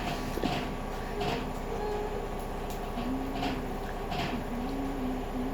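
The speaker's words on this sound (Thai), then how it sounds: "เครื่องซักผ้าดังมาก" A household washing machine running loudly, with a continuous close rumble and whir broken by intermittent clunks and squeaky tones.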